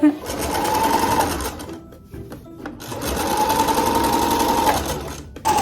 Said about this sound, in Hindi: खाने बनाने के साथ साथ आप मेरे साथ सिलाई करना भी सीखें कि हम सिलाई कैसे करते हैं